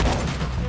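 Shotgun loaded with slugs fired in the video game Red Dead Redemption 2, a dense, loud burst of gunfire filling the moment with no talk over it.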